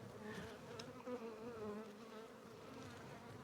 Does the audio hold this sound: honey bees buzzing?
yes